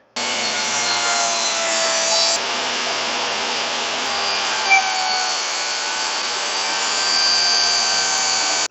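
A saw blade makes its first cut through wood on a newly built spline jig sled: a steady, loud rasping whir held for about eight seconds, with no talking.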